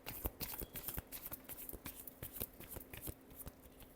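Tarot cards being shuffled by hand, a quick run of crisp riffling flicks and soft slaps repeating close up and quietly, no voices.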